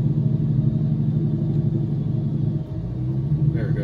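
A heavy truck's engine brake rumbles in American Truck Simulator, a deep steady low drone holding loudly throughout with a brief dip near the end.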